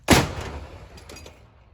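A single loud, sharp blast of artillery gunfire booms close by on a front line, then rolls away into a fading rumble with a few faint knocks after it.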